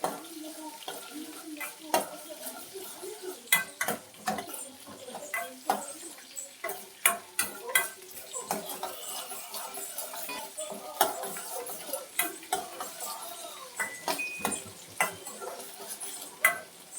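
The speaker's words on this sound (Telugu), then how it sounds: "ఆనియన్స్ మంచిగా ఫ్రై చేసుకోవాలన్నమాట మనము" Onions frying in a pan for egg curry give a soft, patchy sizzle broken by frequent sharp clicks and scrapes of stirring, fairly close, with no talk.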